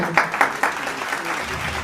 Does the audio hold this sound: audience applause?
yes